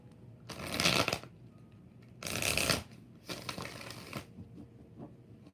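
Tarot cards are riffle-shuffled three times in quick bursts, each a crisp flutter of snapping edges, close and clear with short pauses between.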